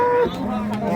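A dairy cow at a village livestock market lets out one loud, close, drawn-out moo that fills the moment, with faint crowd noise behind.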